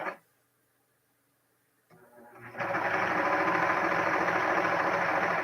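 A serger stitching fabric strips for a jelly roll quilt: a quiet pause, a few soft handling sounds, then the machine starts up into a loud, steady, fast mechanical whirr that runs without break, no talking.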